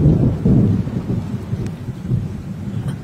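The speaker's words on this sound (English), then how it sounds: "There's a lot of thunder and lightning, and it's getting worse." Deep, rolling thunder rumbles continuously through a summer storm with rain, loud and sustained without any talk.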